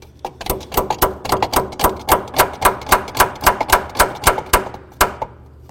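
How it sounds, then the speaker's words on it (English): Hammer tapping a steering shaft onto a steering box in a workshop, a rapid run of about twenty sharp metallic strikes in even rhythm, close and loud, with no talk. "If you need to give it a couple loving bonks with a hammer"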